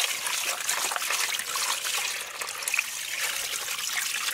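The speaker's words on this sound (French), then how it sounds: "je vais remplir ma petite bassine d'eau pour nettoyer la graine" Water runs steadily from a tap into a small basin used to wash pumpkin seeds, a continuous close hiss of pouring and splashing with no pauses.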